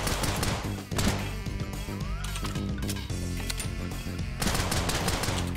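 Rapid bursts of gunfire from the video game Unholy Commotion rattle out in quick, dense volleys with brief gaps between strings of shots, loud and close throughout.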